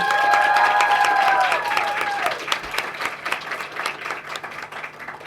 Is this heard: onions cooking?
no